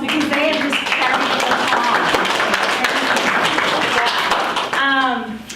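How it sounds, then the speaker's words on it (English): Audience applause at a talk, a dense, steady wash of clapping lasting several seconds with voices briefly audible near the start and end. "Can we give these guys a round of applause"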